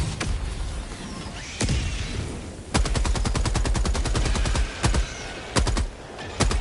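A weapon emplacement machine gun in Helldivers 2 fires loud, close, rapid bursts with crisp evenly spaced shots, broken by short pauses and a few single rounds, with no talk.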